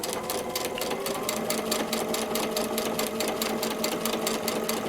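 A domestic sewing machine runs steadily while stitching a paper-pieced quilt block seam, its close, rhythmic needle chatter continuing evenly throughout.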